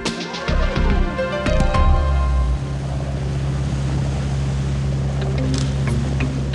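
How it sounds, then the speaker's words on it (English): A ferry with Voith-Schneider propulsion works on the water, heard close as a steady low engine drone beneath wind and water wash, with a few louder rumbling surges near the start and no talking. "modern ferries with Voith-Schneider propulsion are in operation"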